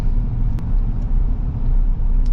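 A manual car engine idles along at low revs in slow Dallas rush-hour traffic, giving a steady, loud low rumble with no talk over it.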